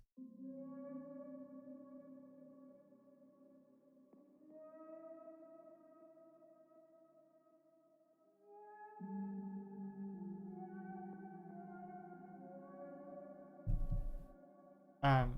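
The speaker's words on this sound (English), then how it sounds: "so it sounds like this as a synth instead of a bass" A smooth synth-like tone, made from a bass guitar processed with distortion, plays sustained notes in a slow melody with shifting pitches and a thin, bright timbre, ending with a short sharp burst.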